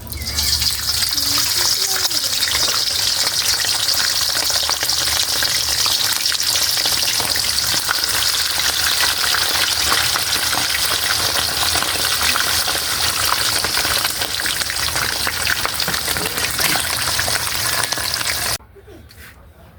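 Pork pieces for lechon kawali sizzle and crackle steadily in hot cooking oil, a loud, continuous frying hiss that runs nearly twenty seconds before dropping away abruptly near the end.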